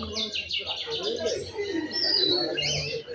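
Rajshahi Giribaj pigeons of an old yellow-eyed breed coo and call close by, with overlapping chirps and soft warbling notes, while voices talk in the background throughout.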